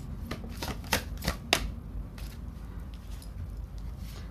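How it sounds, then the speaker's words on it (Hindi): Tarot cards slid and drawn from a deck, giving a few soft, quick papery flicks and taps close by in a quiet room, then a faint hush of handling. "और एक दो कार्ड ले लेती हूँ।"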